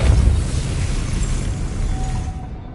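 Depulso spell cast in the Hogwarts Legacy video game: a single deep, rumbling magical blast that is loud and close at first, then fades out over about three seconds with no talking.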